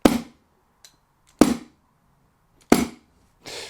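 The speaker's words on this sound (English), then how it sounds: "I'm going to take my hammer tacker, and again, apologies for the noise" A hammer tacker bangs staples into carpet underlay in three sharp, loud strikes about a second and a half apart, each with a short decay, plus faint small clicks between them and a softer knock at the end.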